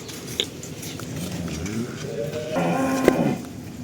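A Friesian cow lets out a deep, drawn-out moo close by, with people talking in the background and a few light clinks.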